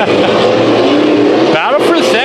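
Race cars roar around the track during a heat race at Bakersfield Speedway, loud engines howling past with rising and falling pitch, and one car whooshes by near the end while an announcer talks over the action.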